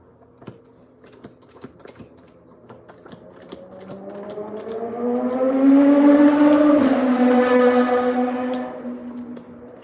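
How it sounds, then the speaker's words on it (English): A loud motorcycle engine roars closer, its pitch rising as it races past fast, then fades away, with light clicking taps underneath. "I think it might have been a motorcycle, but it was very loud and fast."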